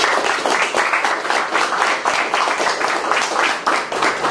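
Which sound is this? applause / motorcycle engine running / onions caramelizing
applause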